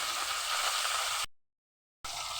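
Rohu fish sizzling in hot oil in a wok, with a steady hissing fry that cuts out briefly to silence before resuming.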